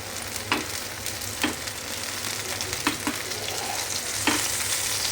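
Pomfret fish frying in a pan with a steady hiss and crackle of hot oil, broken by several soft clicks and taps of a spatula or utensil at irregular intervals; no voices.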